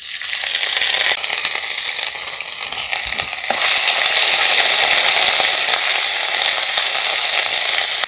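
Ginger paste hits hot oil with whole spices and asafoetida in a pan of vegetarian cabbage curry, a loud, dense, continuous sizzle that swells further partway through and keeps crackling steadily.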